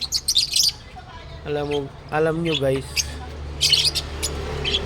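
Hand-fed pet birds give sharp, high chirps in short clusters at the start and again near the end, close by, while someone talks over and between them.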